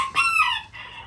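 Chickens, old English game bantam pullets and birds, give a brief squawking cluck, one close and loud call with a rising squeaky note.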